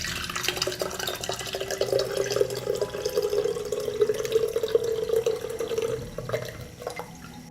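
Banana peel soaking water strained into a container for homemade garden fertilizer, a steady trickling pour with light splashing that runs for several seconds and then tapers off.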